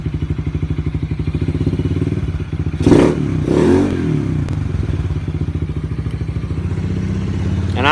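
A Polaris RZR 170 engine idles after an airbox modification, its steady rapid putter loud and close. A couple of clattering thumps break in around the middle before the even idle carries on alone.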